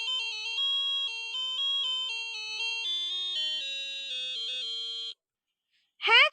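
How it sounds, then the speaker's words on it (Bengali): A phone plays a melodic electronic ringtone, a bright repeating tune of stepped tones heard clearly for about five seconds before it stops, followed by a short burst of another sound. "রিং হচ্ছে।"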